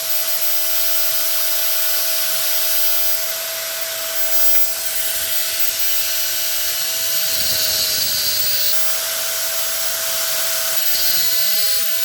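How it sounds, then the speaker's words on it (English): An angle grinder grinds down a weld on a starter armature from a 1976 Bronco 302 engine, a loud continuous high-pitched whine with steady pitch and slight dips under load, close by. "I'm going to weld that gap shut and then just use a grinder to bring it back up to 10."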